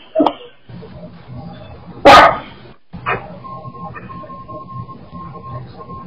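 A few sharp dog barks during an amateur radio chat, one loud and close, spaced irregularly among quieter sounds and a faint steady tone.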